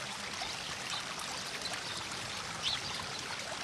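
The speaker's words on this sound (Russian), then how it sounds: "Все это сейчас тает и ручьем бежит прямиком вниз." Meltwater from thawing snow and waste piles runs downhill in a stream. It makes a steady, broad rushing wash with no pauses, heard at close range, with one brief brighter splash partway through.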